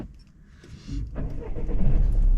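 A learner driver's car pulls away on a UK driving test, its engine rising from a quiet idle into a louder, building rumble as it accelerates, close and without talk.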